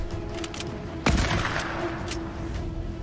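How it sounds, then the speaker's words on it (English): Sniper gunfire in the Fortnite video game, a single sharp shot with a booming tail about a second in, followed by fainter pops of in-game fire over a continuous game background. "There's always somebody that tries to snipe me out over here."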